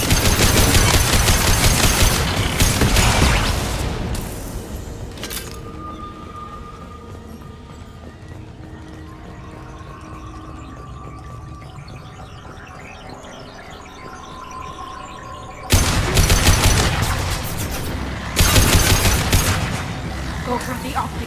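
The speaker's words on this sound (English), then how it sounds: "Automated light weapon ready." Hacked automated defensive turret in Mass Effect 2 opening fire, loud bursts of rapid gunfire at the start and again near the end, with a quieter stretch of distant combat noise between them.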